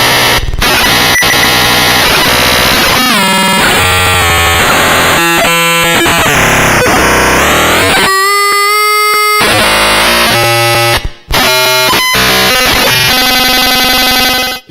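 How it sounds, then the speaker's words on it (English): Noise algorithm on a Moffenzeef MSG2 synthesizer: loud, dense, harsh digital buzzing with rapidly shifting tones and bursts, dial-up-modem-like, dropping out briefly once before surging back. "it also kind of sounds like dial-up modem in a fax machine or something"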